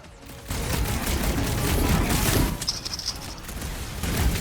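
Rapid bursts of gunfire while shooting at enemies who duck behind cover in the Guardians of the Galaxy video game, loud and close with clattering shots blending into continuous combat noise.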